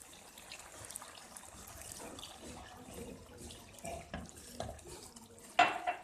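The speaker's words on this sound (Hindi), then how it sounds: "अब इसमें हम पानी डालेंगे" Water is poured into a pan of cooking chicken masala, a soft splashing and trickling wash that stays faint and muffled, with a brief sharper clatter near the end.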